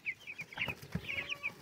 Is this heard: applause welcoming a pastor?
no